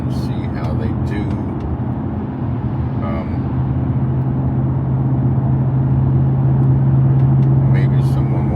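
Steady low road and engine rumble from a car driving through Atlanta on a commute, continuous and close from inside the cabin, with faint higher ticks and a brief mid-range tone partway through; no talking.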